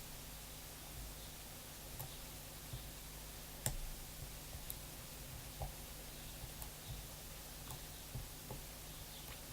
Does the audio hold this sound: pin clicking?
yes